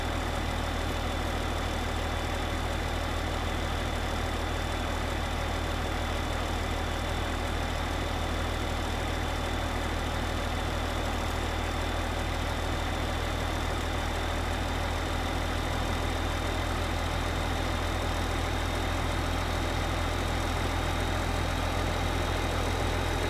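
Tractor engine in Farming Simulator 2015 running steadily at a low idle-like drone, a constant mechanical hum with no pauses or talk throughout.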